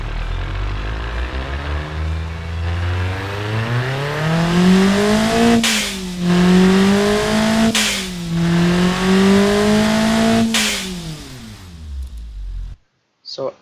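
A turbocharged 1990s family sedan engine revs loud and close, its pitch climbing and falling in repeated sweeps as the turbos come in, with sharp breaks at each shift before it cuts off abruptly.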